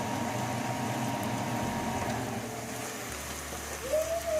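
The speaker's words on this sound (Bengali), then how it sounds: "গরম মশলা দিয়ে পেঁয়াজ ভেজে নিচ্ছি।" Onions fry with garam masala in a pan, producing a soft, steady hiss close by, with a brief tonal whine near the end.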